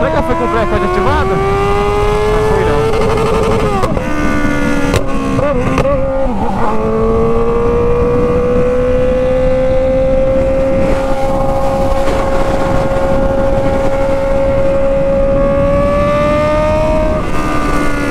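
A remapped, tuned motorcycle accelerates loudly, its engine whine sweeping upward, dropping briefly at a gear change, then climbing steadily again for a long run.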